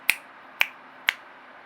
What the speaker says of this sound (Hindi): जब क्रह अस्त्राय फट बोलेंगे तो 3 बार चुटकी बजाएंगे